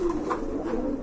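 Pigeons in breeding condition coo in a loft, a short stretch of low throaty rolling calls, close and steady with nothing else over them.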